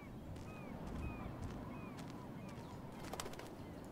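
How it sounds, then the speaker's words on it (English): Birds call in the video game Life is Strange, with several short chirps and whistles, one apparently a dove, repeating over a steady outdoor ambience; distant, faint and without talking. "Birds are so lucky, they can always escape."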